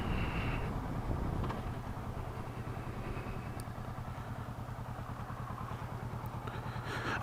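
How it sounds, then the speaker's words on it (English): A 2016 Kawasaki Versys 650 LT touring motorcycle with dual saddlebags being ridden, its parallel-twin engine giving a steady low droning hum with rhythmic pulsing and some road rumble throughout. "the bike that I'm riding is a 2016 Kawasaki Versys 650 LT"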